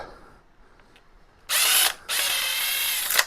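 Screw backed out of a wall anchor with a ratcheting driver, heard as two close bursts of dense mechanical whirring separated by a short pause.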